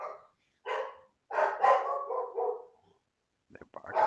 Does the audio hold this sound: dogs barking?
yes